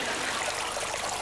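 A man lowers himself slowly into a filled bath, stirring up a steady, close wash of sloshing and trickling water that runs without a break and with no voices.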